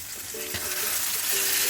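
Mutton liver chorchori frying in released oil in a pan, a soft continuous sizzle with faint stirring scrapes, alone and fairly quiet.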